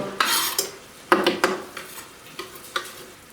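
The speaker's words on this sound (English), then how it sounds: "So all that mince is browned off now. The onion's gone in. Just give that a good mix around." Mince and onion browning in a pan for a cottage pie, with several sharp clatters of a utensil against the pan over a soft background sizzle.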